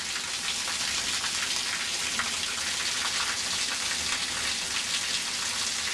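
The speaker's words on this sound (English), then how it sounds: "It's raining freaking crazy." Heavy rain pours down steadily in a dense, loud, unbroken hiss that stays close and even throughout, with no voices.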